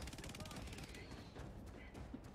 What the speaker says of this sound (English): My cute little auto cannon